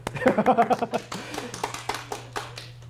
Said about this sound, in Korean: 네, 무릎을 치신 분들에게 박수.